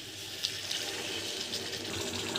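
Hot water poured into a pan of fried spices and fried potatoes for a potato curry, a soft continuous watery rush with a faint bubbling hiss, fairly quiet and without talk.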